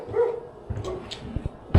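A pet dog at home at night gives a few short barks and yips aimed at a neighbor's cat, fairly faint and a little distant, ending in a louder thump-like bark.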